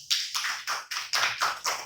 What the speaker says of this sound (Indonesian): Terima kasih anak-anak, tepuk tangan dulu ya.